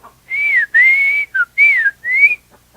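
A father's calling whistle, sung in four long, loud, clear rising-and-falling phrases with a short chirp between them, heard close and alone.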